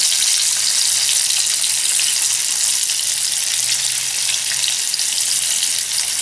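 Trout fillets fry on a Firebox stove in a loud, continuous sizzle of hot fat with fine crackling throughout, steady and close, with no voices.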